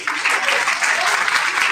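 A welcoming crowd claps at a public address, a brief, loud, dense burst of applause with no gaps.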